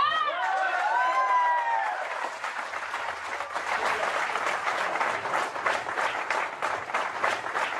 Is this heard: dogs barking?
no